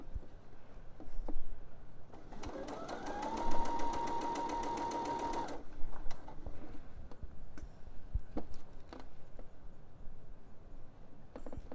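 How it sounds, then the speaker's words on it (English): A sewing machine stitches soft knit fabric for scoop-style short knickers in a single run of about three seconds, a steady motor whine with rapid ticking stitches, over quiet room noise. "we just keep adding the tension, stitching along"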